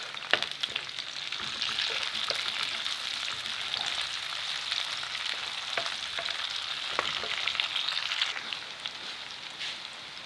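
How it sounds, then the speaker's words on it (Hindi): Onion and green chili fry in hot oil while being stirred for a sabzi, a steady close sizzle with scattered clicks and scrapes of the spoon throughout, no talk. "अब इसमें डाल देंगे ग्रीन चिली, इसको अच्छी तरह मिक्स कर लेंगे।"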